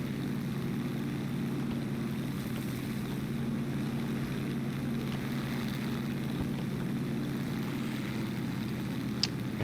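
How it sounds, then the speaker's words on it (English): Kawasaki Ki-102 Randy ground attack aircraft in a video game, its piston engine and propeller droning steadily and loud throughout, a continuous low hum with no pauses. "This aircraft, of course, being actually the ground attack variant of the Ki-102 Randy"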